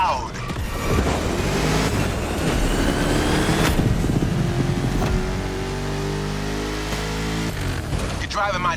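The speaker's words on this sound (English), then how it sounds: "You're driving my #1 car, the star of my collection, the 1969 Mustang Boss 429." A 1969 Ford Mustang Boss 429 in The Crew Motorfest roars loudly and steadily, its engine note climbing through rising revs over several seconds, with voices talking over it.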